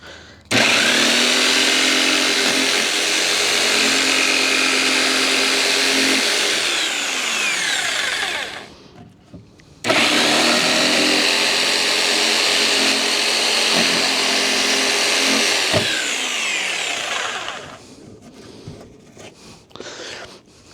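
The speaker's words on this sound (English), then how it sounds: "Pretty bad you got to take the shoe off the thing for the jigsaw blade to work." A jigsaw with its shoe taken off saws steadily through material in two long close, loud bursts of about seven seconds each, separated by a short pause, before the motor winds down and tapers off at the end.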